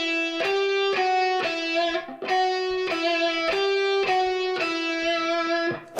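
Distorted electric guitar plays a neoclassical run from a song in a virtuoso's style: loud, sustained, picked notes in steady repeating groups with rich overdriven tone and brief gaps between phrases.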